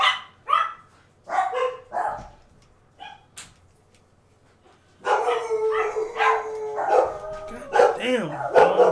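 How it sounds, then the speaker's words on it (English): Dogs bark indoors at home: a run of sharp, separate barks sounds near at first, then a few more come through under ongoing voices and household noise. "And now mom's back and the dogs are barking."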